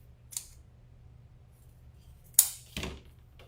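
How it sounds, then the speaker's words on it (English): Scissors snip through deco mesh ribbon for a Christmas wreath, a faint first cut followed by two crisp, close snips near the end against a quiet room. "you're going to cut it off the roll, and then you're going to cut the ends of each side."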